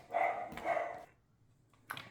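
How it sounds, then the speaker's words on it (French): A dog barks indoors, with two fairly muffled barks in quick succession followed by a short, sharper one, set against a quiet room. "Le chien qui aboie, c'est jamais très agréable pendant une vidéo."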